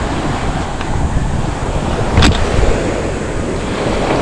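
Steady roar of surf washing onto the shore, with a brief swell of louder wash in the middle and wind rushing across the microphone.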